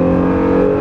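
Honda NSX twin-turbo V6, high-revving, sustains a loud, steady engine drone with strong harmonic tones, close and continuous for under a second with no voices.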